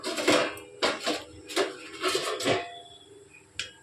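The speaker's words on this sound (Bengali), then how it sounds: "চলো আমি দু মিনিটের জন্য এটা ঢাকা দিয়ে দিই" A metal lid clatters onto a cooking pot of ghugni with peas and goat fat, a series of sharp clanks and rattles over a few seconds, close and fairly loud, ending with one last knock.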